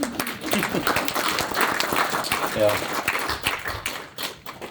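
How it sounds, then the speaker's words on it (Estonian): An audience at a club gathering claps together in sustained, dense applause, close and steady throughout before tapering off at the end. "nii et teeme iseendale ka ühe suure aplausi"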